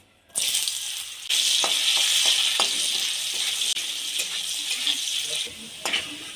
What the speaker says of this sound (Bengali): তেলটা গরম হয়ে গেছে এবার কেটে রাখা আলুগুলো ভেজে নেবো